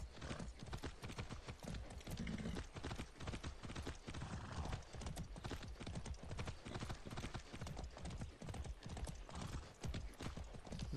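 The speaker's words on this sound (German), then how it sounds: "Jetzt reiten wir mal dahinter." Horse hooves clip-clopping in a fast, steady galloping rhythm while riding in the video game Far Cry 6, continuous and prominent throughout without talk over it.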